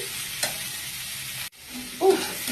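Figs and eggs sautéing with spices in a pan for a Bengali egg-and-fig curry, giving a steady close sizzle with a brief stirring scrape midway and a louder burst of frying near the end.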